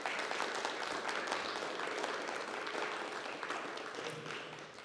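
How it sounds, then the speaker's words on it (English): Audience applause fills the room, a dense steady patter of many hands clapping that slowly fades toward the end. "let's give them a giant round of applause"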